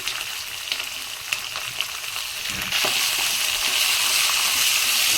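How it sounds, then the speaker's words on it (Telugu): Onions fry in hot oil with curry leaves for semiya upma, giving a close, crackling sizzle that swells suddenly louder partway through and then stays dense, with a few small clinks early on. "ఆనియన్స్ మంచిగా ఫ్రై కావాలి"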